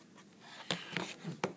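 Someone writes numbers by hand on a map, making a few faint, short scratching strokes with pauses between them in a quiet room.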